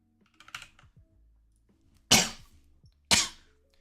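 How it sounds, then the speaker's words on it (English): A few coughs in a quiet room: a faint one early on, then two sharp, loud coughs about a second apart. "Excuse me for the coughing."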